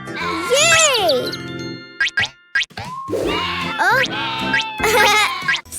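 Cartoon sheep bleats in a bright children's animated farm-animal show, sounding several times in close, loud bursts among music, boings and jingles.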